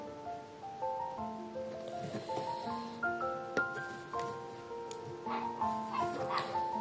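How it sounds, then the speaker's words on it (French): A dog barks several times at a distance amid steady outdoor background noise, with sharp yelps scattered through the clip. "Il y a le chien des voisins qui est en liberté"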